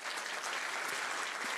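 A theatre audience applauds film critic Kenneth Turan as he is welcomed at Clint Eastwood's cinema lesson, a dense, steady wash of clapping throughout with no voices on top.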